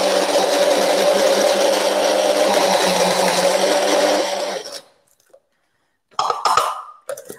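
Food processor crushing biscuits for a no-bake triple chocolate cheesecake base, a loud, steady whirring grind running for several seconds, then a pause and two short pulses.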